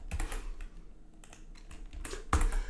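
Someone types on a brand-new Windows-layout computer keyboard, with soft, close key clicks in short irregular bursts and a louder keystroke near the end.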